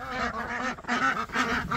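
Ducks on a homestead quack and honk in a close, busy run of overlapping calls with short breaks, and no one speaks.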